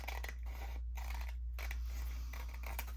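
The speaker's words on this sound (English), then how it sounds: "So I'm just going to cut this off." Scissors snip through paper while a piece is trimmed to size for themed ephemera crafting, with a few quiet crisp cuts and scraping close by in a still room.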